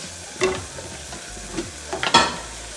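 Chicken biryani masala with coriander and pepper powder is stirred in a pan over a soft sizzle, with a few sharp scraping strokes of the spoon, the loudest two close together near the end.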